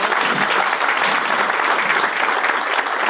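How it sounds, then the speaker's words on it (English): Audience applause at an investment association event, a dense, even round of clapping that holds steady and loud throughout without cheering. "Warm round of applause for Adam and"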